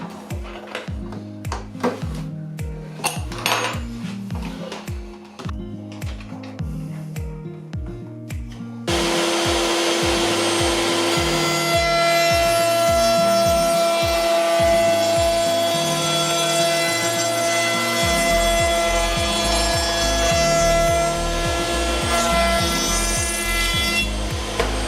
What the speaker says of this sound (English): the router has this mechanism in order to elevate the router and perform the cut